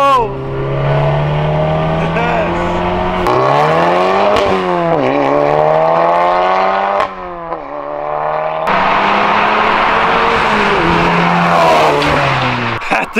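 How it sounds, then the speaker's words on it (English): A tuned Volkswagen Golf R of about 420 horsepower running 28 to 29 psi of boost accelerates hard, engine pitch climbing and dropping through several gear changes, loud and close, with tire squeal and people's excited voices over it. "I'm gonna go for a rip in the Golf R"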